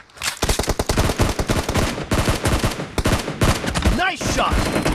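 Gunfire in the battle royale game PUBG, rapid bursts of automatic shots cracking close and loud in quick succession, with a short whooshing effect near the end.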